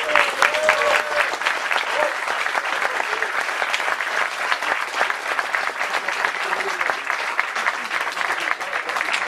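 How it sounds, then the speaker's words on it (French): An audience applauds at a 2012 conference with Dieudonné, a steady, dense wash of clapping that stays loud and even for the whole stretch, with faint voices mixed in. "vous pouvez applaudir."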